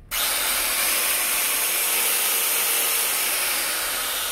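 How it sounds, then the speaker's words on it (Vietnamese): A Makita circular saw runs loud and steady at high speed after a sudden start, its harsh continuous whine filling the space with no talk over it. "máy cưa đĩa Makita nó không có êm luôn nha, nó ồn lắm"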